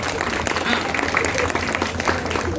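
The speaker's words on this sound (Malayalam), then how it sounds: "കൈ അടിച്ചോണ്ടിരിക്കണം, നിൽക്കാൻ പാടില്ല." An audience claps in brief, dense applause at a gathering in Delhi, a crackling patter of many hands under a speaking voice.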